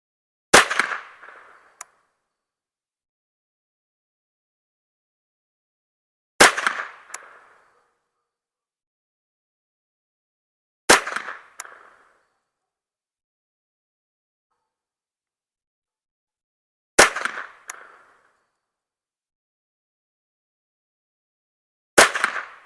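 Five sharp gunshots ring out at an outdoor shooting range aimed at pumpkin targets, each loud crack followed by a short echoing tail, spaced about five seconds apart with silence between.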